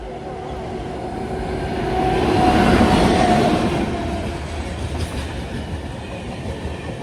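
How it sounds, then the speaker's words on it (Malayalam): The Island Express from KSR Bengaluru to Kanyakumari rolls past on the rail line near Munroe Island, a loud continuous rumble with wheel clatter that swells toward the middle and then eases, with no voices. "ഒരു ട്രെയിൻ വരുന്നത് കാണാം, KSR ബംഗളൂരിൽ നിന്ന് കന്യാകുമാരിയിലേക്കുള്ള ഐലൻഡ് എക്സ്പ്രസ്"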